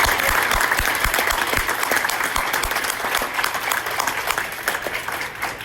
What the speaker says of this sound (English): So please clap it up for him.